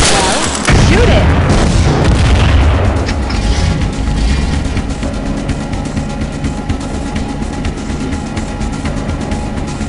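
Gunfire and a heavy explosion in the Half-Life mod Chemical Existence, a loud boom early on rolling into sustained rumbling debris and scattered shots, with faint voice underneath.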